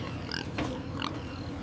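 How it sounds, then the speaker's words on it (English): Large Berkshire pigs, around 130 kilograms each, grunt and oink close by in a farm pen, a few short snorts rising over a constant low herd murmur. "massive 130-kilogram Berkshire pigs ready for processing"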